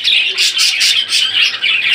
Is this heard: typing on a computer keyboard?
no